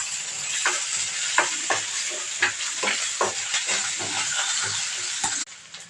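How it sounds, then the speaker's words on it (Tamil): Onions sautéing with garlic and mustard seeds in a pan for a Tamil ivy gourd masala fry: a continuous hissing sizzle broken by frequent clattering stirs, close and fairly loud, cutting off near the end. "அது கூடவே இந்த வெங்காயத்தையும் சேர்த்து வதக்கிக்கலாம்."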